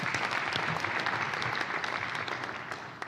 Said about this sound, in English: How about a big round of applause for his service to the University of Hawaii?